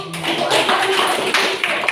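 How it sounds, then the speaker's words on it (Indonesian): A short burst of hand clapping from a small group, dense and steady for about two seconds, fairly close and loud. "Tepuk tangan dulu."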